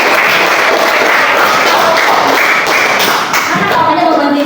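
Students in an Islamic studies class for eighth graders clap their hands together in a loud, dense patter that runs steadily throughout, with some voices mixed in.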